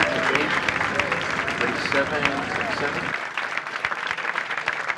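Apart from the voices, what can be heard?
audience applause for Les Paul tribute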